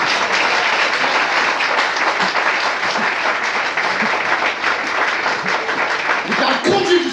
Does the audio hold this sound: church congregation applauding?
yes